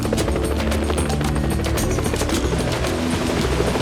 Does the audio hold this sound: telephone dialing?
no